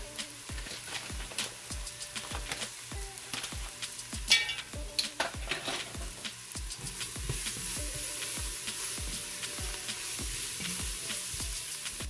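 Chili powder and paprika sizzle steadily in a hot pan for vegan chilli, with repeated close stirring scrapes and clinks over a constant frying hiss; no talking.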